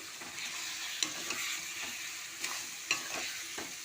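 Ground spices, salt, turmeric, cumin and chilli powder, are stirred and fried together in a pan for a Bengali tangra fish curry, giving a steady close sizzle with occasional utensil scrapes and no voices.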